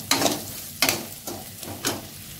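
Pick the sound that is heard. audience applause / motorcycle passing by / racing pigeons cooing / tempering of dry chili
tempering of dry chili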